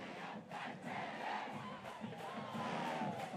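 Stadium crowd roars continuously at a college football game between the B-CU Wildcats and AAMU Bulldogs late in the fourth quarter, with a band's horn lines faintly sustained under the steady, loud cheering.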